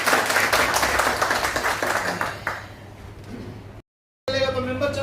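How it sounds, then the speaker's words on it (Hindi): A gathered crowd at a drivers' association meeting claps together, dense and loud at first, then thinning out and fading before a brief silence and a voice. "ताली बजा"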